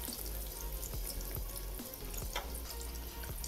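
Crushed garlic cloves hitting hot oil with fried onion in a pan, a steady loud sizzle and crackle throughout with a few soft clicks of a utensil.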